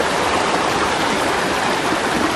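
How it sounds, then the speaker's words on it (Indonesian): A strong stream flows beside a wet mountain trail on Gunung Salak, giving a constant, close hiss and rush of water with no pauses. "ini juga ada air sungai cukup melimpah"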